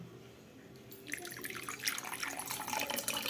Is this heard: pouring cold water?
yes